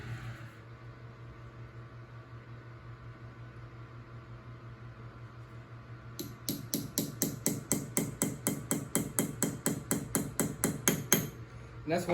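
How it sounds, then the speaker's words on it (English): A hammer drives a punch to set eyelets in leather on an anvil atop a stump, starting after a low hum with a rapid run of sharp metallic blows, evenly spaced and close. "Use the anvil and the punch to set it in place."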